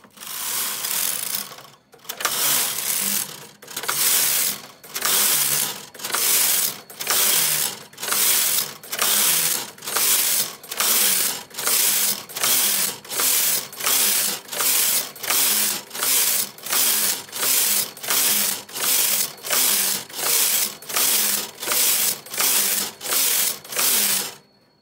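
A Brother metal bed punchcard knitting machine knitting a tuck stitch pattern: the carriage is pushed back and forth in a steady, loud rhythm of whooshing, clacking passes, each about a second long, with no voices.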